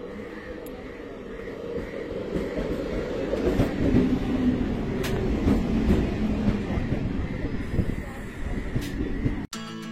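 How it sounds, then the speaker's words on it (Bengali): A local train bound for Namkhana pulls into Garia station, a steady rumbling roll of wheels and carriages with faint clatter that continues throughout, moderately loud and close, with no talking. "নামখানা যাওয়ার জন্য যে লোকাল ট্রেন সেটা কিন্তু ঢুকছে গড়িয়া স্টেশনে"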